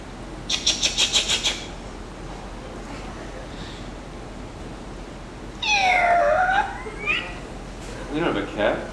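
Cruise-ship improv audience members imitate cats with a burst of rapid meows, then a long drawn-out yowl and more scattered mews, loud and close over room murmur.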